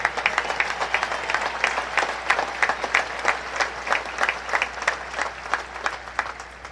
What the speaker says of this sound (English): That's right, you can applaud that.